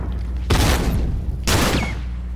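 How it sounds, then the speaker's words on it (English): Two heavy explosive blasts, one after another about a second apart, from a frag grenade detonating in The Last of Us multiplayer Factions match, loud and close with a rumbling tail over steady game background noise. "Fire in the hole. Frag out, please kill everyone."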